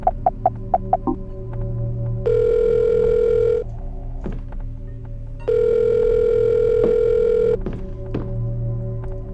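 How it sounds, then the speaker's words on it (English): A phone in the Silent Hill: Shattered Memories video game dials a number with a quick series of tones, then rings twice with long, loud, steady electronic tones separated by a pause, over a low hum. "Let's call the number for no reason."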